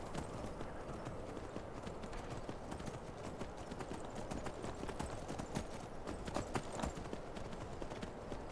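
Horse hooves clip-clop steadily in a modded Skyrim game, a continuous rhythmic trot of moderate loudness with no speech over it.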